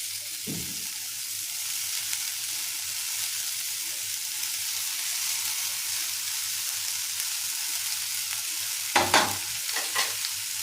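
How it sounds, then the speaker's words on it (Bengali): Water spinach (kalmi shak) sizzles steadily as it fries in a pan with browned onion, with a few louder scrapes and clatters of stirring near the start and again toward the end. "এবার আমি এই শাকটা দিয়ে দেবো"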